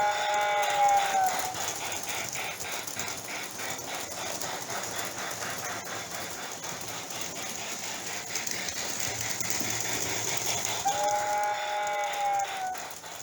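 A toy model train runs with a steady mechanical ratcheting clatter, and a thin whistle housed in its tender sounds briefly near the start and again near the end.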